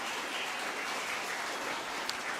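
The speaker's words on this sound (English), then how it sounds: "could we clap her, because that's a really important job" Applause from a school audience clapping for the Sergeant at Arms at a primary schools youth parliament, a steady dense patter of many hands filling the whole moment without speech.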